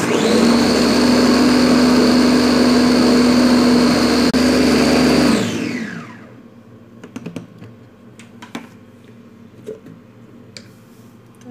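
A kitchen blender grinding green chillies and ginger runs loud and steady with a high motor whine, then spins down and stops, leaving faint clicks and small handling sounds.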